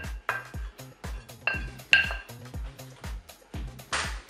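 Piedmontese potato salad ingredients with peeled eggs being mixed in a bowl, giving a steady series of about ten clinks and scrapes of a utensil against the dish, fairly close and with no talk.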